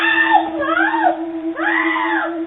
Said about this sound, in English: Her screams ring out as the struggle goes on.